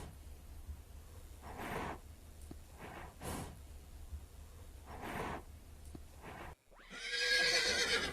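A horse in the Ertugrul Ghazi mobile game snorts and whinnies over soft hoofbeats, ending in a loud, shrill neigh; no talk is heard.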